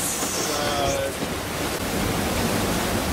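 Strong wind at sea aboard a sailboat, a constant loud broadband rush with a buffeting, washing texture, close and unbroken throughout.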